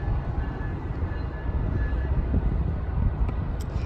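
Low, continuous rumble of a train rolling by, with a faint high whine, steady throughout and somewhat distant.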